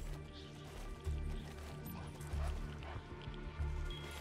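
A dog barks several times in the Call of Duty Ghosts video game, with short repeated yips and barks over a busy, low game soundscape, played faintly.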